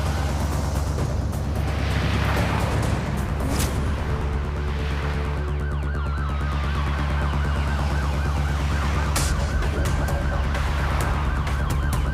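Wailing sirens of an ambulance convoy in an action movie scene, loud and continuous with rising and falling tones layered over engine rumble and dense background sound, no clear talk.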